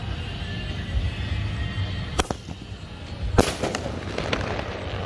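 A green Punch Avatar sky shot firework launches with two sharp booming bursts around the middle of the clip, followed by crackling, over steady outdoor background noise.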